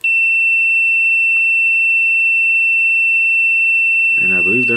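Multimeter continuity beep, a steady high-pitched electronic tone held almost the whole time, loud and close, with a brief voice breaking in near the end.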